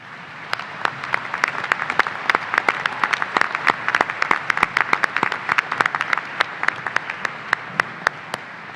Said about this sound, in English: please join me in another round of applause in recognition of the special level of accomplishment of these graduates